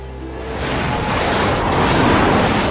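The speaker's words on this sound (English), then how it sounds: "Whatever is that noise? It sounds like Sylvester's helicopter." Cartoon rescue helicopter passing overhead, a broad roaring engine-and-rotor noise that swells steadily louder over a few seconds, heard alone without talk.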